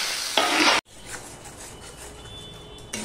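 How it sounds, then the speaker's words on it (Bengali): Tomato pieces dropped into a pan of onions frying with turmeric give a burst of sizzling, then a brief cut and a softer steady crackle and stir, close and without talk. "এবার দিয়ে দিচ্ছি টমেটো টুকরো।"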